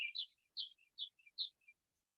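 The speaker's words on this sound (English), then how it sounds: "Maybe you can hear the background of birds here in my backyard." Birds chirp in a quiet backyard, a few short bright tweets in a loose repeating pattern, faint and fairly distant, with nothing else around them.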